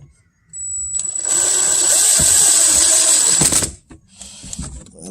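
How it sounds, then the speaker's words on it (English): A power drill drives screws to mount aftermarket side skirts on a BMW, making one close, continuous high whirring burst of about three seconds that stops abruptly, with quiet before and after and no talking. "let's get the screwing."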